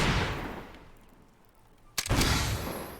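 Gunshots at a shooting gallery in the video game Fable 3: a loud, roaring blast fading out over the first second, then a sharp, close crack followed by another heavy, sustained blast.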